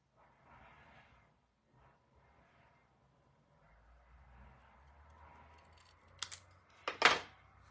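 Scissors cut linen thread scraps at a paper-craft table: two sharp, close snips near the end, after a stretch of quiet handling rustle.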